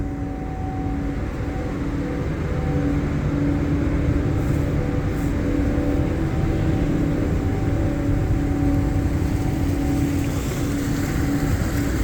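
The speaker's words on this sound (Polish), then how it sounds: "Właśnie wypływam promem." A car ferry pulls away with a steady low engine rumble and constant wind and water wash, loud and unbroken, with no voices.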